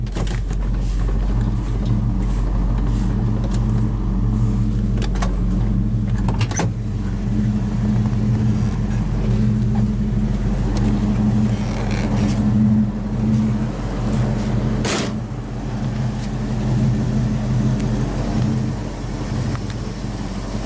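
A 1973 Plymouth Road Runner with a 318 V8 and three-speed automatic idles steadily after start-up, a loud, close, continuous low rumble with a few brief mechanical clicks.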